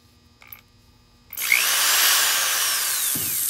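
A power drill whirs loudly and steadily into a cast resin piece after a few faint clicks, the motor pitch bending slightly as it bites.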